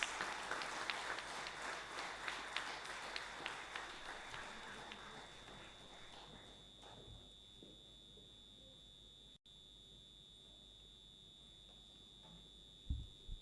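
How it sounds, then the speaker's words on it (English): An audience claps in a sustained burst of applause that gradually fades away, with a steady electronic tone ringing underneath. "Let us all give a big round of applause."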